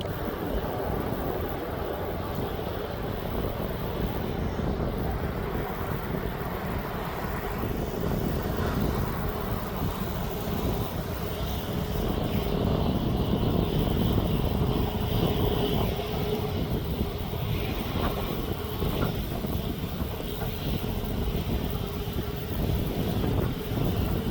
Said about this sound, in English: There goes the freighter. It looks like it's empty as he's going up and away down to Leipzig.